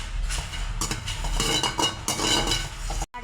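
Roasted garlic scraped and moved from a pan into another vessel: a spoon clinks and scrapes against metal in quick, busy strokes, close and moderately loud, then a brief cutoff near the end.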